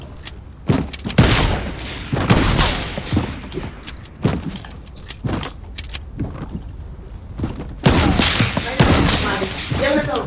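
Heavy Shotgun blasts in a first-person shooter battle, loud sharp booming shots repeating irregularly across the stretch, several close together, with game effects and some faint voice activity between them.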